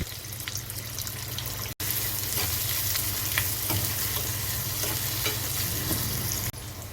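Chopped onions, curry leaves and tempering seeds fry in hot oil in a pan for a masala curry. A steady, close sizzle continues throughout, with light stirring scrapes and no talking.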